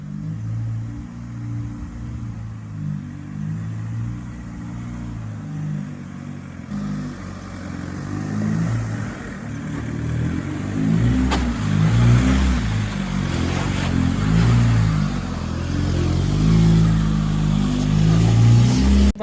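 A Nissan Patrol 4x4 engine rumbles low and steady, then grows louder and labours harder partway through as it climbs steep steps on a bush track, with uneven revving bursts toward the end.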